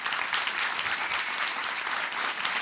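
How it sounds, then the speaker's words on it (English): Sustained applause from a large audience at a closing session of a workshop event, dense and steady clapping filling the whole moment without pause. "a big round of applause."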